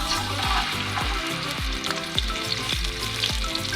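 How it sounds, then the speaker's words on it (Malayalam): Pieces of coconut sizzle and crackle as they fry in hot coconut oil for a Kerala-style beef peralan, with a loud, steady sizzle broken by repeated bursts as the pieces are stirred. "അപ്പോൾ തേങ്ങാക്കൊത്ത് ചൂടായ വെളിച്ചെണ്ണയിലേക്ക് ഇടുകയാണ്."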